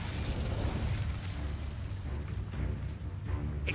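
A fire spell cast in Hogwarts Legacy, a dense roaring whoosh with crackling bursts and mechanical clatter, loud and continuous throughout with no speech.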